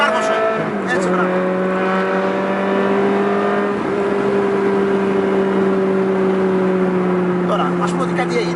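A car engine revs hard as the throttle is pressed, a loud, steady high whine with rising and falling pitch held over several seconds, close by, with brief voices at the start and end.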